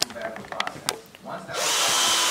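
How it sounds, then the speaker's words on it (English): Power drill boring holes into a custom sneaker, a sharp, steady whirring drone that starts abruptly partway through and holds loud to the end after a few scattered knocks and handling noises. "go ahead and drill the rest of these holes into this shoe"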